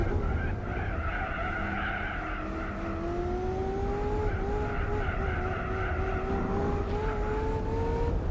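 An unmodified stock car in Gran Turismo 4, tyres squealing in a long sustained skid while the engine note climbs and holds underneath, loud and close, with no talk.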